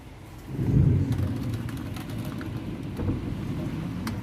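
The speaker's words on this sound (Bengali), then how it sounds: "এখন বৃষ্টি একটু একটু শুরু হয়েছে" Rain beginning to fall outside an open door at a Bangladeshi home, heard as a steady, moderate hiss with low rumbling, swelling slightly about half a second in and continuing without speech.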